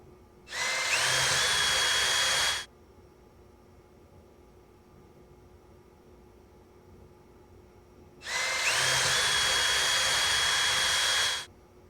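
Two separate bursts of a high-pitched power drill, each about two seconds long, bore mounting holes in a Fender Telecaster guitar body, with quiet pauses between them.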